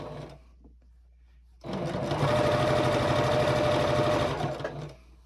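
A sewing machine runs steadily for about three seconds, stitching binding onto a gingerbread star table topper, after a quiet pause, then stops.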